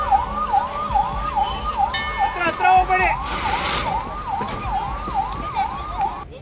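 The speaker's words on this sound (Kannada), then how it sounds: "ಅಗ್ನಿಶಾಮಕ ವಾಹನ ಸೈರನ್ ಮೊಳಗಿಸ್ತಾ ಬಂತು" A loud wailing fire engine siren sweeps up and down repeatedly during a civil defence mock drill in Mandya, with a little road noise and clatter beneath it.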